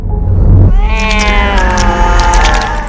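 A high, drawn-out meow-like wail, a voice mimicking a cat, rises after a low rumbling start and wavers steadily for a couple of seconds, loud and close.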